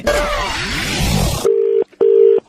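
A telephone line before a prank call: after a stretch of other noise, two steady dial-tone beeps of about a third and half a second sound alone, separated by a short gap.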